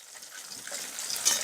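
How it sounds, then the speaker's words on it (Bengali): Pieces of rohu fish frying in hot mustard oil after being flipped, a steady broadband sizzle that grows slightly louder toward the end, with no talking. "মাছগুলো একদিকে ভাজা হয়ে গেছে অন্যদিকের জন্য উল্টে দিচ্ছি"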